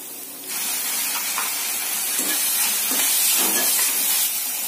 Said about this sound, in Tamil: இஞ்சி பூண்டு பேஸ்ட் வந்து பச்சை வாசனை போகிற அளவுக்கு வதக்கிக்கோங்க